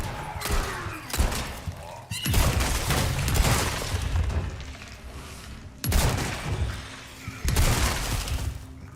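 Shotgun blasts in the Resident Evil 4 Remake on hardcore difficulty: three heavy booming shots at roughly two-to-four-second intervals, each with a rumbling tail, amid game noise and a faint voice.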